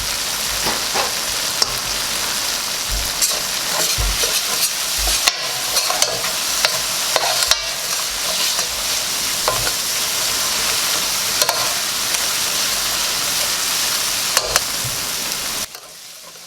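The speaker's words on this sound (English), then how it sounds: "Cook it for a minute more, continuously stirring" Curry for catfish with mango sizzles in a frying pot while being stirred continuously, with loud steady frying hiss and repeated scraping and knocking of the spoon against the pot, ending abruptly.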